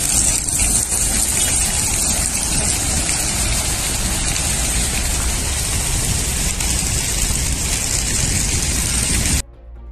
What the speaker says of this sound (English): Heavy rains caused flash floods in Acapulco, Mexico.